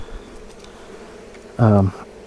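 Honeybees at a beehive in a vineyard, where newly requeened hives are trying to swarm, make a quiet background hum until one bee buzzes loudly past close by for a moment, then fades.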